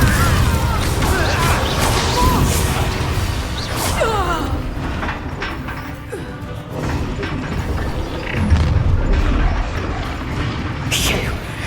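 Chaotic Hogwarts Legacy combat with Confringo fire blasts, loud booms, crashes and whooshing spell effects layered continuously, while a voice talks over the action.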